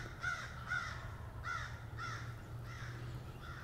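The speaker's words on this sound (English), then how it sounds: "This bird is gobbling his head off." A wild turkey gobbler calls at a distance during a hunt, sounding as six evenly spaced, rattling bursts about half a second apart over a steady low outdoor rumble.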